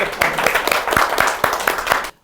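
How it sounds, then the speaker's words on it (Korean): Brief round of clapping during a Korean political campaign interview, a few people clapping close and loud in a steady rhythm for about two seconds before cutting off. "이거 박수 치고 넘어가겠습니다"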